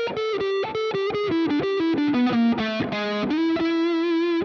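Electric guitar with distortion and effects plays a quick arpeggio lick with a half-step slide, loud and alone, notes picked in steady succession before settling on a sustained tone.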